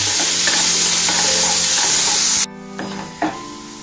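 Onions and tomato frying in a pan while being stirred give a loud, dense sizzle that cuts off abruptly, followed by a couple of light utensil knocks in near silence.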